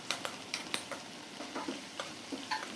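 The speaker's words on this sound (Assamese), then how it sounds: "এতিয়া দি দিলোঁ আদা নহৰুৰ পেষ্ট 2 চাহ চামুচ হ'ব আৰু এইখিনিও ভাজি ল'লোঁ" Ginger-garlic paste frying and being stirred in a pan for egg korma, with soft sizzling under repeated scraping strokes of a spoon, close and moderately quiet.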